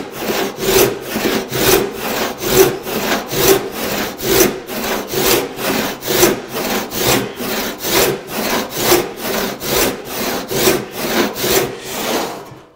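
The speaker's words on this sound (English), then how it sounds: "When the saw reaches the bottom of my original kerf, I'm going to try and extend this a little bit." A hand saw cutting wood to extend a kerf while making a bench hook, with loud, regular back-and-forth rasping strokes at roughly one per second, close up and alone.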